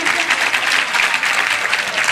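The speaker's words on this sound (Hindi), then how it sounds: "एक बार जोरदार तालियां बजाकर मुझे हुक्म दें।" Audience at a poetry recital applauding loudly on request; a thick, continuous wall of clapping from a large crowd, close and steady throughout with no pauses.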